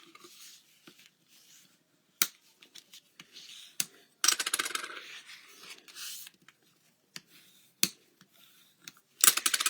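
Card stock being creased into an accordion fold for a W and V fold greeting card, heard as sparse crisp paper crinkles, taps and brief rustling bursts close up, with quiet gaps between them and no talking.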